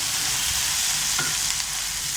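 Grated coconut sautéing in a pan for a roasted-masala mutton kuzhambu gives a steady broadband sizzle with a soft stir or scrape partway through, close and continuous with no voices.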